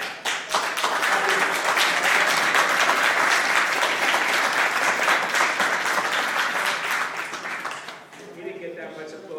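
Sustained audience applause fills a hall during a mayor's state of the city address, a dense steady roar of clapping that tapers off near the end.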